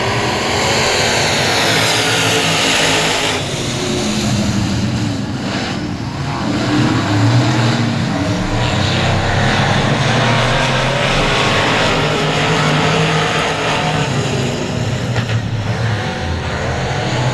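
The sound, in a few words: race cars accelerating at start of race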